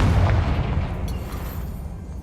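A Confringo fire spell from Hogwarts Legacy bursts in one loud, close boom at the start, then rumbles and fades away over about two seconds with no voices.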